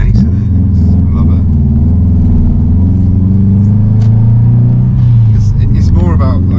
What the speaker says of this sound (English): It's just the sound of a Subaru.